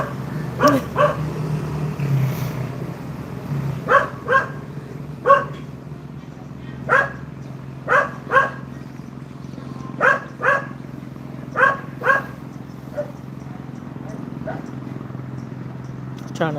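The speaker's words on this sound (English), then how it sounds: "Dog don't like that." A dog barks repeatedly outdoors at a moderate distance, in sharp single and paired woofs spaced a second or two apart over a low steady background hum.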